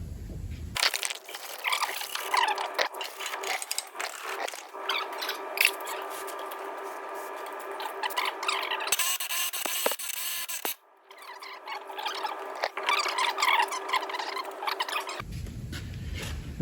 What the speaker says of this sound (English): we'll give everything a quick scrub up with a wire brush